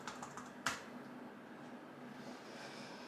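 Soft keystrokes on a computer keyboard connected to a Raspberry Pi setup, a few faint taps with one sharper click, quiet and sparse over low room hum.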